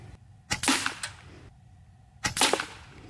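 Two sharp, snappy shots from an FX Impact M4 .22 caliber air rifle, nearby and about two seconds apart, each with a short crack and a brief ringing tail over quiet background.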